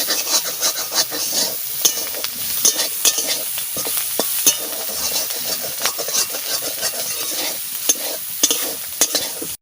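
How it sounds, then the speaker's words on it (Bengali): Shrimp sizzling steadily in a frying pan, with dense, continuous crackle and repeated scraping and stirring strokes from a utensil close by. "চিংড়ি মাছ ভাজা হয়ে গেছে,"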